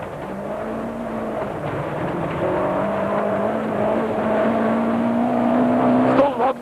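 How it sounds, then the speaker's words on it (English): Rally car engine heard from inside the car on a 1992 Sasol 400 Rally stage, a steady droning whine that slowly climbs in pitch as it accelerates, loud and close, with a sharp thump near the end. "So it's to Johnny Hubig we look for our next in-car ride as he and Mike try to haul in the Fords on stage 15"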